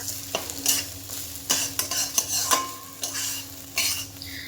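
Potol and jhinge peel are stirred in a wok over a gentle sizzle, with repeated close scraping strokes of the spatula against the metal at an uneven rhythm.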